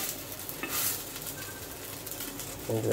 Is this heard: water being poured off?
no